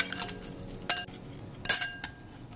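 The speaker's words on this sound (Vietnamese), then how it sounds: "Trộn đều lên." Utensils clink against a bowl in a few sharp taps with quiet scraping between them as food with seasoning powder, salt and pepper is stirred up close.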